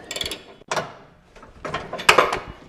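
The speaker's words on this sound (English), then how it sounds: "Tighten back down our pulley nut, that's a 7/8." A ratchet tightening a 7/8 pulley nut on a lawn mower blade spindle, heard as several short bursts of rapid metallic clicking separated by brief pauses, close and fairly loud with no speech.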